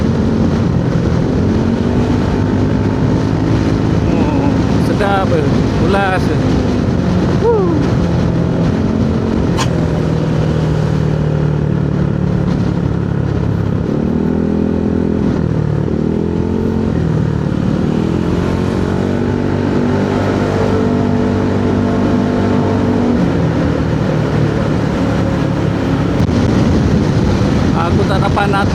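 Honda Forza 350 scooter upgraded with a 330cc piston, its engine droning steadily and close throughout a ride with shifting pitch as speed changes, while someone talks over it most of the time.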